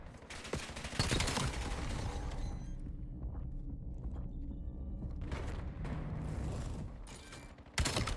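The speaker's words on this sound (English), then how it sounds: "Frosty has gotten angry and he has started shooting." Gunfire rattles in a competitive video game match, rapid fusillade bursts at the start and again near the end, with a low mechanical rumble and quieter stretch between, no talk over it.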